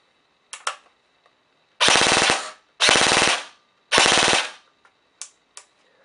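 An airsoft gun with an Element Max Speed long-type motor on an 11.1 volt battery fires several short, single shots and three rapid full-auto bursts of about half a second each, sharp and close, with silence between.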